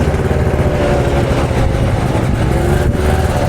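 Engine of a prebug car build under load, a close, loud, steady droning rumble with a sustained mid-pitched note and no pauses, no voices.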